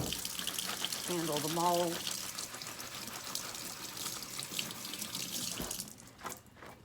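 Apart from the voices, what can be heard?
washing hands under running tap water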